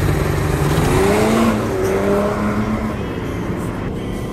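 A Stage 3 tuned 470-hp diesel sedan, an Audi A6 BiTDI or BMW 530d G30, launches hard from a standstill in a 0-100 and 100-200 km/h run, its engine roaring loudly and climbing steadily in pitch.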